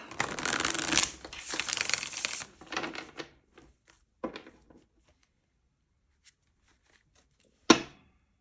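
Animal oracle cards are shuffled by hand: a few seconds of close, dry riffling and rustling in quick bursts, then scattered soft taps and a sharper flick of cards near the end, with no talk.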